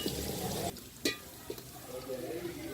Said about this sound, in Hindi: थोड़ा इसको भूनो, क्योंकि प्याज लाल होने तक जो है ना इसको भूनते हैं हम